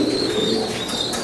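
A pigeon at a pigeon farm coos once, a brief, low, throaty call heard close over a soft background hum.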